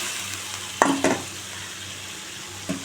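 Sliced snake gourd fries in oil with dried chili and nigella seeds, giving a soft, low sizzle broken by a few short metallic scrapes of stirring in the pan, with no talking.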